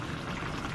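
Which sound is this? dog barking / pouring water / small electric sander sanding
pouring water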